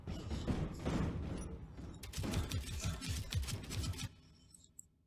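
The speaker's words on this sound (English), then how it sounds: "And it's still shooting at me." In a video game, an enemy fires at the player in rapid bursts of sharp, clattering gunshots that come in quick volleys and then cut off to near silence.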